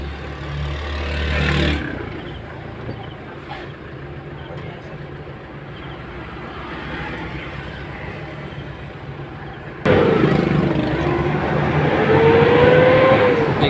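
Kia Bongo 3 CRDi diesel truck with low power and white smoke from a bad fuel filter, engine droning steadily on a test drive, then rising louder as it revs and accelerates, with voices talking over it.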